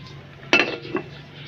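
A lid is set down on a cooking pot of simmering ginisang monggo with lupo: one sharp metallic clank, then a softer clink just after, over a quiet kitchen background.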